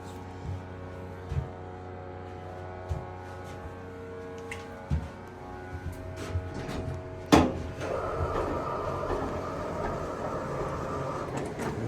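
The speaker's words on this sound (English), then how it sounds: "listen to this door" A Schindler 321A hydraulic elevator door at a hotel slides open and shut with no chime, giving a rattling clunk and rolling rumble over a steady low machine hum, with a few soft knocks and taps beforehand.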